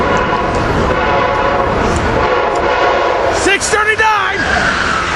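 A Silverliner IV commuter train rumbles past loudly with wheel and rail noise, and its horn sounds in short tonal blasts near the end while a person talks nearby.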